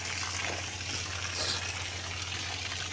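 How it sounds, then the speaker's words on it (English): Water runs steadily in a continuous rushing gush with a faint low hum beneath, moderately loud and unbroken throughout. "I'm excited they get to hear water."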